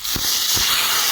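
Water poured into a hot pan of frying koi fish gives a sudden loud steam hiss with two soft splashing thumps, then a sustained close seething sizzle.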